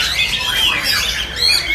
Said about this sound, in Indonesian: Ini jenggot Jawanya lagi bunyi terus ya?